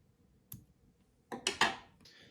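Scissors snip off the excess thread while a pheasant tail nymph fly is tied. There is one faint click, and then a quick cluster of three sharp snips close up in a quiet room.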